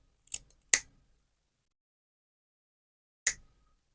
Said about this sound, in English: you just give it a diagonal cut